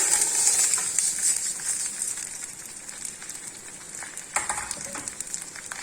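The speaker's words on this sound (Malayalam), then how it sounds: "ഇതന്നെ വറുത്ത് നല്ല വറുത്തെടുക്കണം." Rice frying in ghee for a no-onion chicken biryani, a soft continuous sizzle with faint crackles and occasional stirring scrapes, fairly quiet and steady throughout with no talking.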